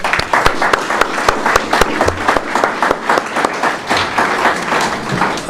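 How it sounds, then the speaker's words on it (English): An audience at a formal gathering claps steadily as guests are called up front for a photograph, with dense, sustained applause and sharp individual hand claps standing out near the mic. "let's give a round of applause"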